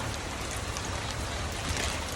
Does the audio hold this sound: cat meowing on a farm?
no